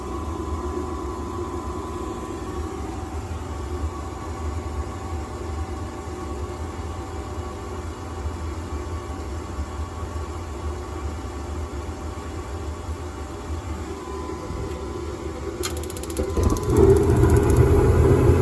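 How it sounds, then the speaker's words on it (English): A furnace inducer motor runs in a steady, low droning hum with a constant mechanical rumble and hiss, heard close for a long stretch before a louder surge near the end. "Inducer motor is on."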